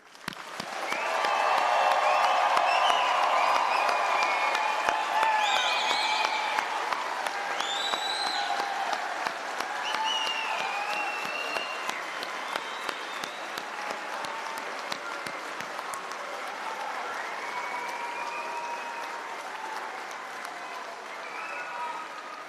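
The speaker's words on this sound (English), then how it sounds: "I invite our faculty, family, and friends to join me with a monstrous round of applause congratulating our graduates of" A large convocation crowd applauds the graduates of 2023 with sustained clapping and cheering, loud whoops and shouts rising over the clapping early on, then a long, steady, slowly easing round of applause.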